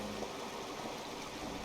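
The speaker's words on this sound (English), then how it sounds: "Up that waterfall." A steady, soft rush of falling water from a waterfall in the video game My Time at Portia, continuous and even with no voices over it.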